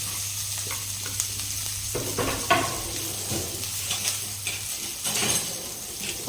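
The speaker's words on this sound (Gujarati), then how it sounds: "હવે આપણે આ બધી જ વસ્તુને સારી રીતે મિક્સ કરી લઈશું." Ginger, garlic, chillies and green onions sizzling and frying in a pan while a spoon stirs and scrapes them, giving close, irregular clatters over a continuous hiss.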